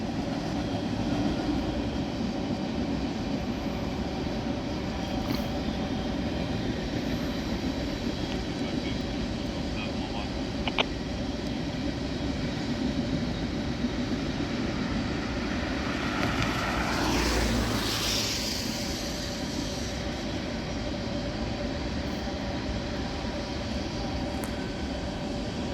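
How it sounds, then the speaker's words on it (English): A Norfolk Southern train rolls across an old bridge in Elyria, Ohio, a steady continuous rumble heard from below at a distance, with a brief louder swell midway and no distinct wheel flats. "That's a pretty quiet train up there."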